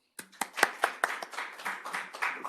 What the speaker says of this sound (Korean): 큰 박수로 맞으시기 바랍니다.